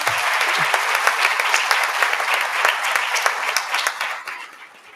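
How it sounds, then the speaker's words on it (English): Nurses applauding at a hospital system gathering, a lively, close crowd clapping with crisp individual claps standing out, briefly mixed with a low voice early on before the applause thins and fades. "So give yourselves a round of applause"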